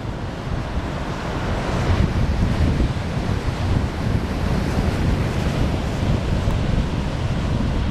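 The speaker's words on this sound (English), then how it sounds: "Not a bad little wave." Surf waves rolling in and breaking on an Outer Banks beach, a steady broad wash of water with gusty wind buffeting the microphone throughout, no voices.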